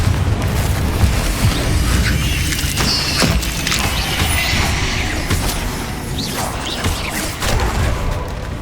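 Fire and blasting spells from the Hogwarts Legacy video game erupt in a continuous barrage of booming explosions and crackling impacts, loud and dense with sharp bursts throughout.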